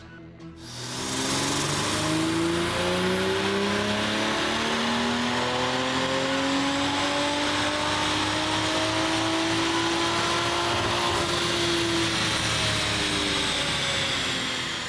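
2020 Toyota Supra on a dyno doing a pull on 93 octane in 96-degree heat: the engine revs up in one long, loud sweep from low to high, with rising harmonics and a brief shift-like dip near the end.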